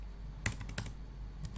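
Keystrokes on a computer keyboard as terminal commands are typed, a few sharp clicks spread irregularly over a quiet background with no talking.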